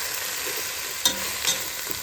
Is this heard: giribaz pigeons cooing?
no